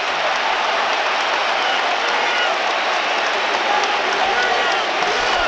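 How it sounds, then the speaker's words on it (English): Big crowd cheer at St James' Park during a Newcastle United versus Brighton FA Cup match as a player is sent off, a steady, loud, roaring wash of sound throughout. "Big cheer around St James's Park."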